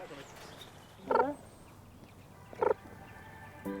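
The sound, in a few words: keeper imitating a cheetah's bird-like chirping call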